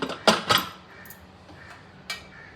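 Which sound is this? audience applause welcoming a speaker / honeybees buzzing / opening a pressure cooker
opening a pressure cooker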